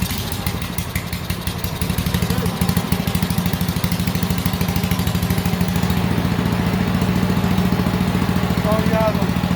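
A Honda GXV160 small engine runs close by with a loud, fast, even chugging beat that holds steady throughout.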